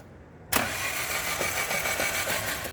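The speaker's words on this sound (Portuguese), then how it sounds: "Dá uma partida pra mim aí." A 2012 Chery S18 flex-fuel car engine cranks and catches at once, then runs on in a steady, loud, close idle with a rough, uneven note from a misfiring motor.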